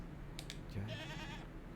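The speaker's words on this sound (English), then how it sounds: "Thank you, goat." A goat bleats once, a short wavering cry, quiet and somewhat distant amid faint ambient noise in the eerie alpine video game Mundaun.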